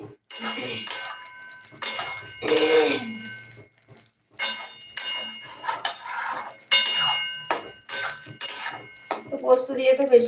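Ridge gourd and poppy seeds get stirred in a pan, giving bursts of close metal scraping and clinks from the utensil in irregular spurts with short quiet gaps between them.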